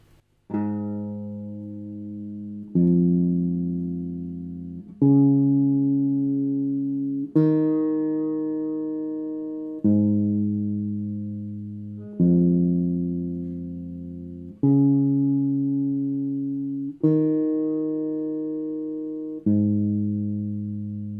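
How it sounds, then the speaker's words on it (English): A bass line played alone on guitar, slow, one note every couple of seconds, each note ringing out and decaying cleanly. "let's isolate the bass line only"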